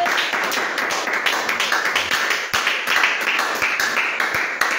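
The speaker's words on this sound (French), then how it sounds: "Est-ce que tu peux donner une offrande d'acclamation au Seigneur Jésus-Christ?" A church congregation applauds in praise, with many sharp hand claps layered into a busy, irregular patter at close, fairly loud level.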